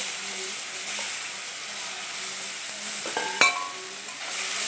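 Chopped onion fries in hot oil for patol jhaal, a soft continuous sizzle with faint periodic stirring scrapes and one brief metallic clink partway through.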